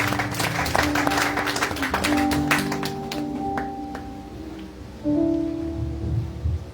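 A church congregation bursts into applause and cheering for Jesus during a worship service, a dense roar of clapping throughout, with sustained tones of instruments or voices underneath.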